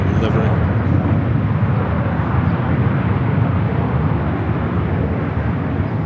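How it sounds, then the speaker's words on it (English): A Viva Aerobus Airbus A320 takes off at LAX, its jet engines giving a loud, continuous roar that stays constant from start to finish. "Viva Flight 623 taking off to Monterrey, Mexico on the A320"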